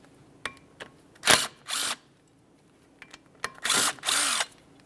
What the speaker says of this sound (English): Remove the brake rotor from the area by removing these 2 T40 torque screws.